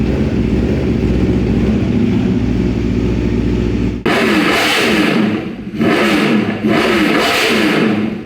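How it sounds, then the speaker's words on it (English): An Aprilia RSV4 motorcycle with a short SC muffler runs on a dyno, first a loud steady drone, then three sharp rising revs with quick drops between them, close and raw. "Or do you like the SC sound?"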